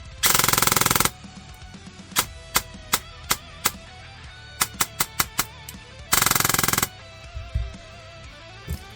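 Gun in a video game firing at a low rate, two long full-auto bursts framing a run of single spaced shots, loud and sharp with no talking.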